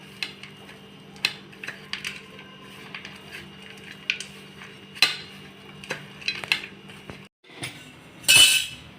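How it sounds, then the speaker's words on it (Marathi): Pathri leafy vegetable being stirred in a pan, with a utensil scraping and clinking against the metal in irregular taps and light rattles, fairly close, ending in a brief louder hissing burst. "आणि ही भाजी आपण आता मिक्स करून घेऊया"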